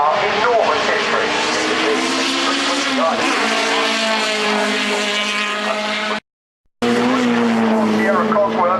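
A Ford Sierra Cosworth touring race car roars past at high revs, its engine pitch climbing and shifting through gears, with a brief gap before the howl resumes.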